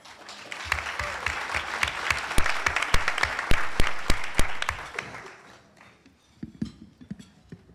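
An audience at a youth business competition finals applauds to welcome a speaker. Dense clapping builds and holds for several seconds, then fades to a few scattered claps and some thumps.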